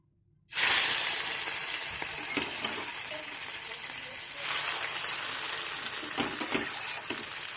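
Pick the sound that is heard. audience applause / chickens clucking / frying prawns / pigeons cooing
frying prawns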